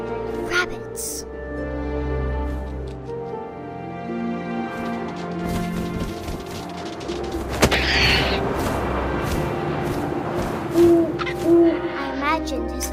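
An owl hoots in the video game What Remains of Edith Finch over a windy ambience, with a narrating voice talking alongside.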